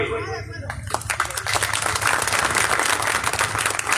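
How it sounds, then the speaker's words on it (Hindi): An audience at an all-India mushaira poetry gathering breaks into clapping after a poem ends; a voice is briefly heard before the dense, sustained applause swells and continues. "ताली बजाइए, नज़्म मुकम्मल हुई।"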